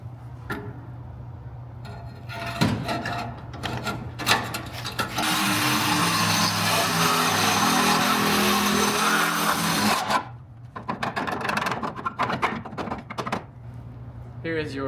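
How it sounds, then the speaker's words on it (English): A Sawzall reciprocating saw cuts through a spot-welded bracket inside a vehicle frame rail, giving a loud, harsh buzzing rasp for several seconds, set between clanks, scraping and handling noises, with a voice talking at times. "a spot welded bracket inside the frame rail right here that you're going to need to cut through with a Sawzall"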